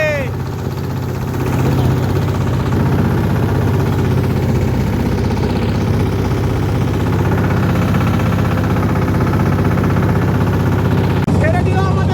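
A motorboat engine drones steadily and loudly as the boat pulls away on the Jamuna River in Bangladesh, a continuous mid-pitched hum that swells after the first second and holds unbroken.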